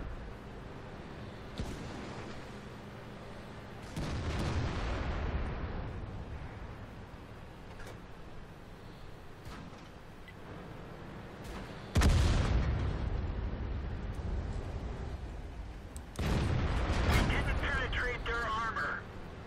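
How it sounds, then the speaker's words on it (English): Booming artillery and cannon fire from the World of Tanks game in a T32 tank battle, with heavy blasts and rumbling impacts rising over a continuous engine drone, several loud bursts spaced through the stretch. "Gotta avoid the artillery."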